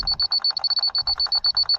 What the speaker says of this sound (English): fast beep is high,